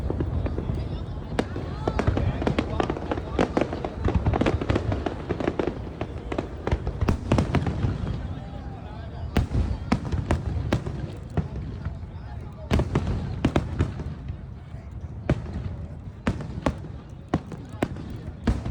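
Independence Day fireworks in Boston, a long run of sharp bangs and crackling bursts, some clustered and some spaced out, over steady outdoor crowd murmur and voices.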